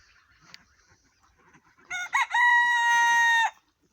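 A rooster crowing in a poultry yard, a loud, close, sustained cock-a-doodle-doo rising then held steady for about two seconds, preceded by faint clucks and soft hen sounds.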